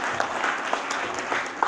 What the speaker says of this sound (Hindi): एक बार खुद के लिए तालियां बजाइए